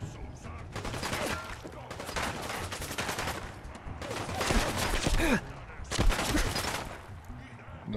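Gunfire in Fallout 4 crackles in repeated bursts of rapid shots, mid-distance and fairly loud, with overlapping volleys and brief pauses, mixed with faint game ambience.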